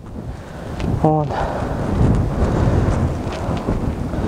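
Strong wind buffets the microphone with a constant loud roar and rumble, and someone says a single short word partway through.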